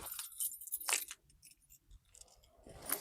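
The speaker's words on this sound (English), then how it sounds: "You get your keys out again" Keys jangle and clink while being pulled out to unlock a caravan hitch lock, a few bright metallic bursts close by with quiet pauses between.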